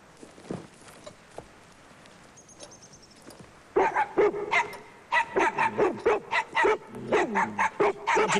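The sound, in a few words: dog barking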